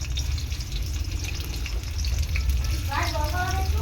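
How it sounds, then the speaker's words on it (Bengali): Chopped onion dropped into hot oil in a pan while cooking Bengali chicken kosha, giving a steady close sizzle and frying crackle with a brief stirring scrape near the end. "তো আমি তেল গরম হয়ে গেছে, দিয়ে দিলাম পেঁয়াজ।"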